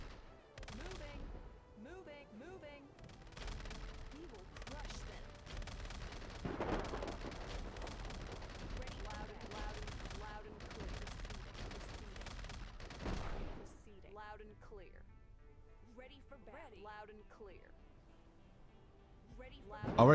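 Sustained gunfire and explosions rattle through a war video game battle involving tanks, planes and infantry, with dense overlapping bursts that thin out toward the end while someone talks over it.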